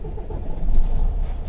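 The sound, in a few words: truck engine starting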